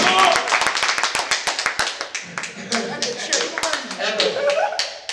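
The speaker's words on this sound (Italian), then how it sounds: "Un applauso a Bovini" A crowd applauds a winner at a Mini-Z radio-controlled car championship award ceremony in Brusciano. The clapping is brisk, close and continuous, with a few sharp individual claps standing out and scattered murmuring voices.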